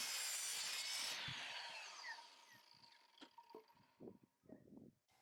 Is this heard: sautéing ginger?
no